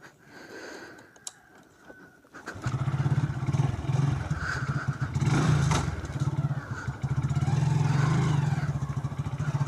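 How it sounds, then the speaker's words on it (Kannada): A Glamour motorcycle engine kicks in after a brief quiet start, then holds a loud, steady throbbing drone with small revving swells as the bike gets underway. "ಸದ್ಯಕ್ಕೆ ನಮ್ಮ ಹತ್ರ ಇರೋ ಸೂಪರ್ ಬೈಕ್ಸ್ ಇದೇನೆ, ಗ್ಲ್ಯಾಮರ್."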